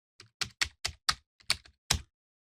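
Computer keyboard keys are struck in a crisp, uneven run of about nine close taps, with no talk over them.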